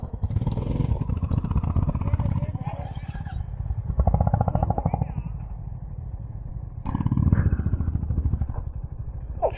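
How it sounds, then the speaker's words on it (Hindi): A Honda motorcycle on a high-altitude Ladakh adventure ride near Khardung La starts and runs, its engine rumbling steadily and swelling twice, with people talking loudly over it throughout. "चलिए तो लगाइए बाइक, इतना मत सोचिए। बाइक लगाओ।"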